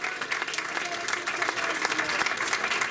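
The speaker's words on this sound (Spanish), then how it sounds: "¿Cuántos pueden abrir un gran aplauso al Señor en esta mañana y darle gloria a Él?" A church congregation at a Sunday morning service breaks into dense, sustained applause, many hands clapping at once in a steady roar that fills the room without letup.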